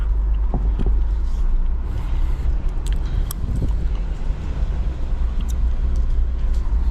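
A 2024 Jeep Wrangler Sahara cruises on a Colorado road, a low steady engine and tyre rumble heard from inside the cabin with some faint knocks and rattles, no talking.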